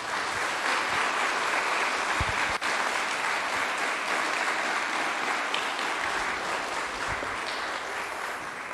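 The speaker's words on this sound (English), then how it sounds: "Please give these people a round of applause." Concert audience at a chorale and alumni concert applauding steadily and evenly throughout, a dense sustained wash of many hands clapping.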